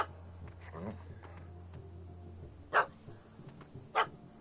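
A puppy in The Witcher 3 barking at a cat up a tree, two sharp yips standing out over quiet game ambience and low background sounds, with a voice speaking faintly early on.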